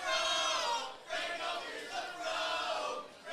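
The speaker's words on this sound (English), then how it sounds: "A lively crowd here in Oklahoma City." Lively crowd at a live pro wrestling event in Oklahoma City, cheering and roaring loudly in surging waves, with a brief dip before swelling again.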